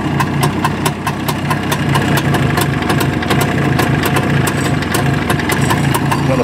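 A small engine idling steadily at raised revs after starting, with a loud, close, rapid, regular putter and no pauses.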